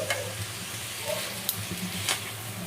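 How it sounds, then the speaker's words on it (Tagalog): Native chicken tinola is stirred in a cooking pot, giving soft scraping swishes and light clinks over a gentle simmering sizzle, with a few brief spoon knocks. "Pero haluin ko muna"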